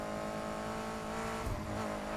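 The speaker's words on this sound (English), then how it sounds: "The engine sound isn't too loud, is it?" A car engine hums continuously in the racing game Need for Speed Heat on PS4 Pro, a steady mid-level drone from a stock car fitted with nitrous.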